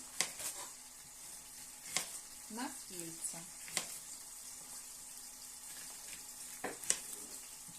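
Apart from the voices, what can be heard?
burger patty frying in pan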